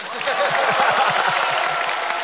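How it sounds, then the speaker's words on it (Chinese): Studio audience applause at a stand-up comedy show, a short burst of dense clapping that rises quickly and holds steady. "此处有掌声。"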